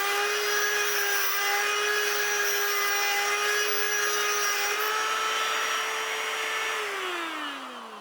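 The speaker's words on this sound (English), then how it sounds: "now let's sharpen this stud with the Pro Series tool. Remember, it is important that you let the diamonds do the cutting." A carbide stud is ground with a diamond Pro Series sharpening tool, giving a steady, close high-pitched whine with bright overtones that holds for about seven seconds before the pitch drops and fades as the tool winds down.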